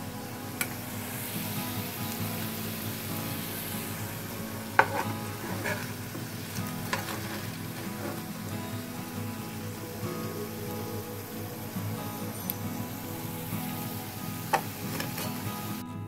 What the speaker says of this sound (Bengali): ঠিক সেম ওয়েতে বাকি ভাজাগুলো ভেজে নেব